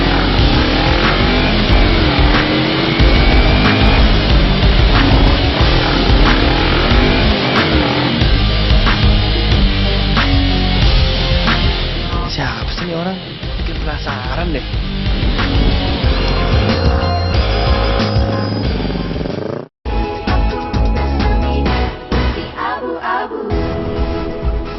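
Car engines revving loudly and roaring past at close range in a continuous, busy stretch of accelerating traffic noise with occasional sharp dips.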